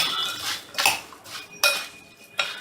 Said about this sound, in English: now we'll take a spoon and mix up all of this